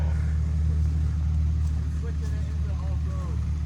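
A steady, low engine drone from a Chevy Colorado Trail Boss pickup straining for traction off-road, with a voice talking over it.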